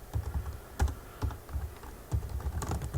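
Typing on a computer keyboard, quick irregular clusters of soft key clicks and thumps at close range, with brief pauses between bursts and no talking.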